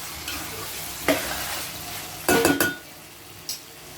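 Chicken avakaya pickle cooking in oil with chili powder, sizzling steadily while a spoon scrapes and knocks against the pan in a few sharp strokes, close and with no talking.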